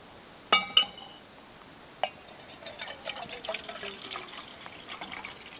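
Light titanium parts of a Soto ST-350 TriTrail camping stove clink together twice in quick bright rings. A sharper tap follows, then a run of faint scattered metallic ticks and tinkles.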